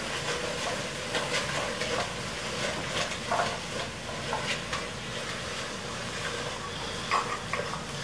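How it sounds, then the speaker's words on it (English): Red pepper flakes stirred in a pan over a steady background hiss of frying, with a few soft scraping stirs spaced through the clip and no voices. "as well as a good amount of red pepper flake. Give that a quick stir."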